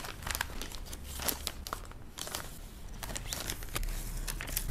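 Plastic packaging crinkles and rustles close up as a pen and sticker are slipped into a package, a busy stream of crackling handling noises with no talk.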